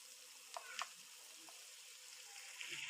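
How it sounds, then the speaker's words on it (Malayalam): Square-cut onion and capsicum sautéing in a hot pan for fried rice, a faint steady sizzle with a few soft clinks and stirring scrapes throughout. "ആദ്യം സ്ക്വയറായിട്ട് കട്ട് ചെയ്ത സവാള നമുക്ക് ഇട്ട് കൊടുത്ത് ഒന്ന് വഴറ്റി കൊടുക്കാം."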